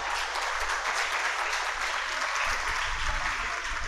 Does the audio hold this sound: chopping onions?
no